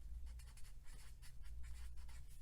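An equation is handwritten, with soft scratchy pen strokes in short repeated bursts, close but faint.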